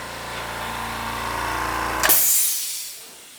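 Compressor motor running steadily, then cutting off abruptly into a sharp burst of air hissing from a leaking hose that fades over about a second, close and loud.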